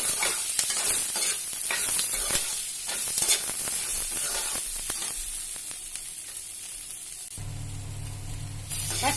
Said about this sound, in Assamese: বইল কৰি ৰখা আলুখিনি মই ইয়াত দি দিম